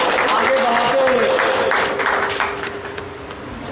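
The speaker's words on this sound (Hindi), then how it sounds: "हम मैं जोरदार तालियों से स्वागत।" Applause from the audience at an AIMIM Hazaribagh district president election meeting, a burst of hand clapping mixed with talk that gradually thins out.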